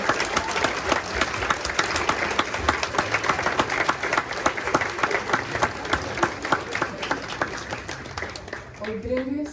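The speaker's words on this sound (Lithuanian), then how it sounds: "Audringais plojimais." An audience at a school ceremony on the first day of the school year at a lyceum claps in sustained, dense applause that runs steadily throughout, with a voice speaking faintly near the end.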